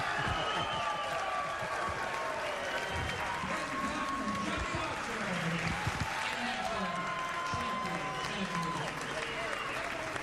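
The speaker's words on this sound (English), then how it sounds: "Let's give a big round of applause for Thorsten, Hohmann, and all the players who saw this match" Spectators applaud after the final of a professional nine-ball pool championship between Thorsten Hohmann and Johnny Archer. The clapping is steady and fairly distant, and a commentator's voice talks over it.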